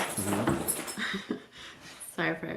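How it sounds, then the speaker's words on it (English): Restless dogs whimpering in the background of an indoor talk-show recording, with high thin whines and soft yelps under a person speaking nearby. "if you guys hear anything, like, in the background, that's the dogs."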